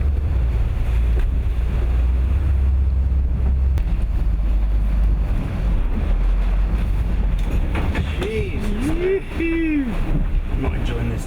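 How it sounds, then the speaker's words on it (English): Rough seas batter a motorboat, with green waves breaking over the bows as it slows and falls into troughs; a heavy, constant roar of water and engine rumble fills the scene, with a brief voice-like tonal sound near the end. "looking at green waves breaking over the bows, falling into pits created by them."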